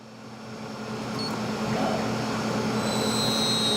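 A used Multicam 3-axis CNC router with a 25 horsepower, 24,000 RPM spindle starts its cycle, a steady motor hum swelling in loudness, then a high spindle whine rising toward the end, with no talking.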